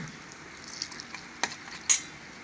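Mutton keema fries in a pan while cashews are stirred through it, giving a soft continuous sizzle broken by a few quick scraping and clinking stirs.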